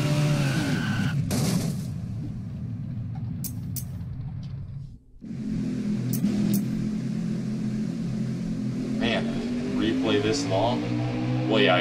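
In NASCAR Heat 5, a stock car does a burnout, its tires squealing loudly over a revving engine. The sound breaks off briefly, then the screech and roar return, wavering, while a commentator talks over it.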